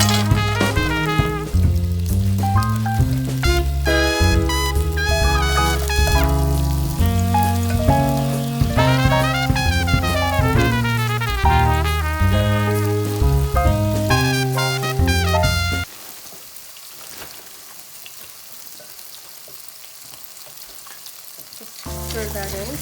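Chopped onion frying in hot olive oil, a dense crackling sizzle heard under background music for most of the stretch, then alone and steady near the end.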